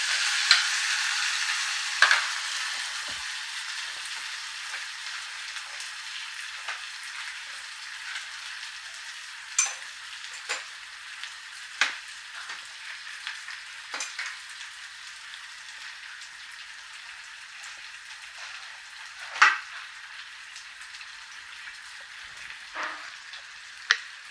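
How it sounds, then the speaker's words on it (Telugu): Chopped onions sizzle and fry in a pan, a steady crackling hiss across the whole stretch with scattered sharp clicks and scrapes as they are stirred; no one speaks. "కట్ చేసుకున్నటువంటి ఉల్లిపాయలు, సరిపడా ఉల్లిపాయలు వేసి ఒకసారి కలుపుకొని"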